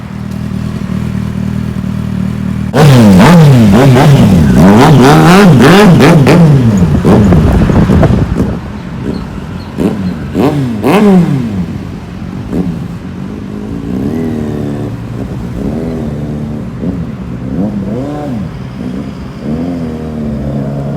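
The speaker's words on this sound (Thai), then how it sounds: "เดี๋ยวเราเนี่ยไปฟังเสียงรถบนท้องถนนดีกว่า ว่าเนี่ยท่อมันจะลั่นขนาดไหนครับผม" Kawasaki Z800 motorcycle with a loud aftermarket exhaust riding on a road, revving hard through rising and falling sweeps, then settling into a throbbing, popping engine note as it cruises on.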